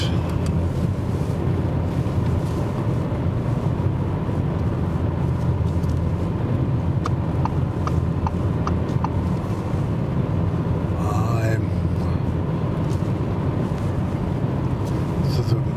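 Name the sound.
Audi S5 Coupé driving in comfort mode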